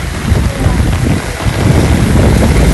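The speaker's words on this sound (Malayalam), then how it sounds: "നല്ല കാറ്റുണ്ട്" Strong wind roars and buffets the microphone in a loud, continuous rumble, with gusts swelling and easing throughout.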